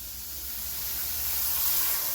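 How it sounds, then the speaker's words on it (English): Beef broth poured into a hot pan to deglaze it gives a steady, soft hiss and sizzle, swelling gently and holding throughout, alone with no voices. "We're going to go in and we're going to deglaze the pan."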